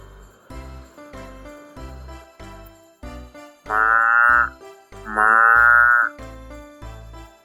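A cartoon cow in a children's bedtime story gives two long, loud moos, one after the other, over a gentle, rhythmic music backing.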